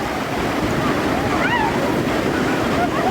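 Steady roar of ocean surf on a California beach, continuous and fairly loud, with wind buffeting the microphone and faint distant voices mixed in.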